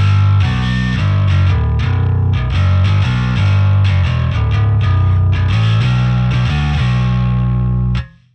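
Bass guitar runs through a Marshall amp plugin by Softube with a compressor before the low-end channel, giving a thick, distorted, driven tone as a busy riff plays loud and continuous for about eight seconds before it stops abruptly.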